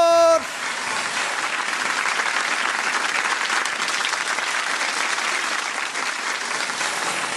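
Studio audience on a Turkish television variety show applauds a singer's entrance: a short musical sting, then loud, dense, steady clapping from a large crowd that fills the room for about seven seconds, with no talk over it.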